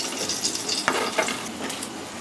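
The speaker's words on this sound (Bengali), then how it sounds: "একেবারে লাল লাল করে ভেজে নিয়েছি, তুলে নেব" Banana koftas deep-frying in hot oil give a soft, steady sizzle, broken by a couple of scraping clinks as they are stirred and lifted out of the pan.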